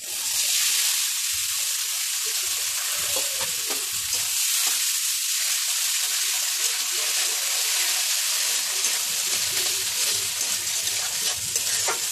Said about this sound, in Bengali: এটা একদম নেড়ে নেড়ে শুকনো করতে হবে।